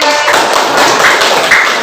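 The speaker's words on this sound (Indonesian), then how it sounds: "Oke, tepuk tangan." A class of students gives a short round of group clapping in a classroom lesson. The claps sound dense and loud and fill the brief moment.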